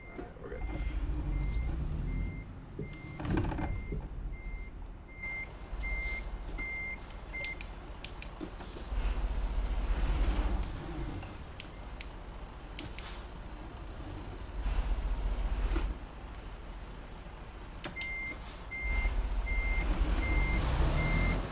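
A truck backing up a trailer in a driving game sounds steady reversing beeps in two stretches at the start and end, over a low idling engine rumble with occasional hisses and clunks.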